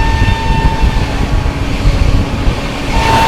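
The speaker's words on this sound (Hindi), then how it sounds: "सामने से कोई ट्रेन भी आ रही है," A Lucknow–Agra Intercity train passes on the opposite track, a loud, steady rumble of wheels and carriages close by with a sustained roar throughout and no talk.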